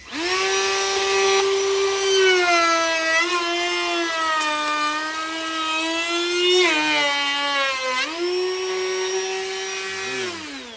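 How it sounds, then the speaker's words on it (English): Router spinning at high speed while cutting a wooden coaster, a loud steady whine close by with pitch dips as the bit bites into the wood and recovers. "clamp the side you did just router, and go again"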